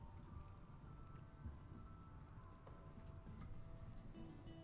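Rain falls in the RimWorld video game as a steady, soft hiss of drops on surfaces. Low rumbles sit under it, and faint scattered ticks and taps come through the quiet, even wash.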